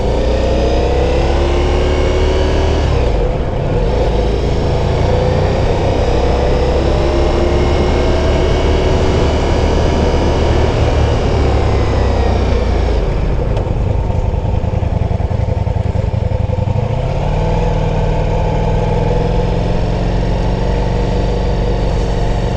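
A Ducati Diavel V4 motorcycle engine drones loudly and continuously while riding, with rising and falling revs and gear changes, heavy wind rumble throughout, close and dominant, with no voices.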